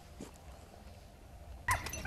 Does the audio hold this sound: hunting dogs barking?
yes